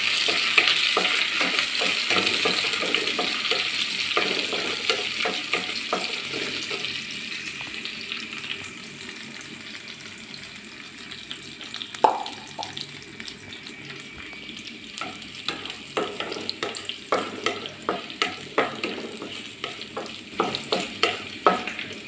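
Dried red chillies sizzle in hot oil in a pan, with a steady frying hiss under repeated scraping and stirring taps from a utensil that grow busier toward the end, with no voices.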